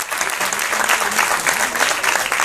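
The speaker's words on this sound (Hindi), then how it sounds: "एक बार जोरदार तालियां बजाइए धनपुर के इन छात्राओं के लिए।" Dense, loud audience applause for schoolgirls from Dhanpur at a science festival award ceremony in Uttarakhand, a steady wash of many hands clapping at once with no break.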